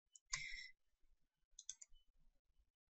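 Computer mouse clicks during Photoshop editing work, two quick bursts of sharp, close clicks separated by a short pause, quiet and alone.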